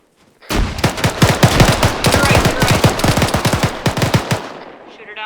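Rapid automatic gunfire in ArmA 3 during a squad building-breach, a long loud run of closely spaced shots over about four seconds with a dense rattling texture, then fading out.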